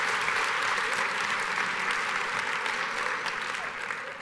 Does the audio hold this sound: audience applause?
yes